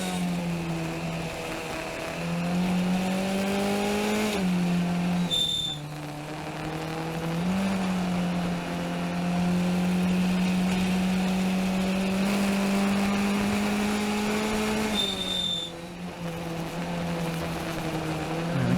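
Race car engine at Mid Ohio during a race, a loud sustained close drone that rises and falls through the gears, with two short lifts off the throttle, recorded onboard and heard on its own.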